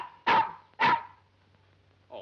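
Dog barking in a colorized classic comedy film: two sharp, loud barks about half a second apart, then a softer short yip a second later, over a faint low hum.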